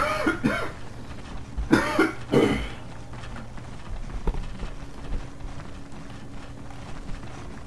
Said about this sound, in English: Sorry if you hear some coughing in the background